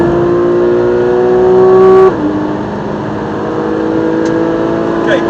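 A race car on the Silverstone circuit holds a loud, steady engine note from the cockpit, then the pitch drops sharply at a shift or lift and climbs back as it accelerates again.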